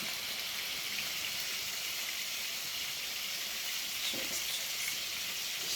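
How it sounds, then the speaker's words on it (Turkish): Onions fry in a pan, a faint, even sizzling hiss with one brief stir of a utensil partway through. "Bak şov yapayım derken soğanları yakacağım"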